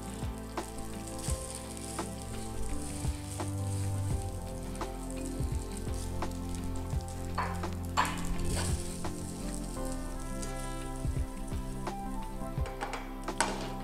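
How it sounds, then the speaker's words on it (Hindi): Rice tipped into a lightly oiled pan sizzles steadily throughout, a dense continuous frying hiss with scattered crackles and pops, close and fairly loud, no voices. "तो सबसे पहले मैं अपने राइस ऐड कर लूँगा एक पैन के अंदर जिसमें मैंने ऑयल लगाया हुआ है।"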